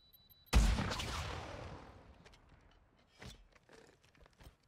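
A single sharp gunshot from a gold-camo weapon in Call of Duty Modern Warfare 2, a loud crack with a fading echo, followed by quieter clicks and handling sounds.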